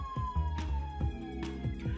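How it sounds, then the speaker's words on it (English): Police sirens wail in a crime-story scene of the Choices: Stories You Play game, a single steady falling siren tone running over rhythmic, pulsing background music. "drowned out by the sounds of sirens"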